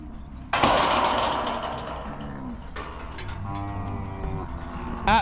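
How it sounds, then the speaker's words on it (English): Cattle on a farm moo loudly and close by, one long drawn-out call followed by further lowing calls, with some rustling farmyard noise in between. "Hey, look at them cattle."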